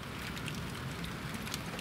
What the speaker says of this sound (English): look at this bloody rain